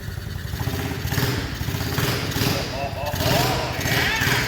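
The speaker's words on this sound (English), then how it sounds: "Get her warmed up." A Tao Motors DB20 pit bike engine warms up with an uneven, rumbling idle and a few small revs, close by, with voices talking over it.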